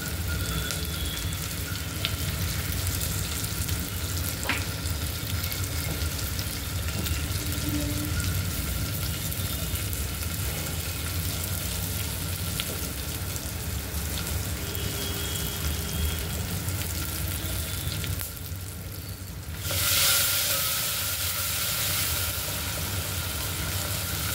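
Plenty of garlic sizzles loudly in hot ghee as a tempering for varan, a steady and intense frying hiss with a brief dip near the end before it returns in full.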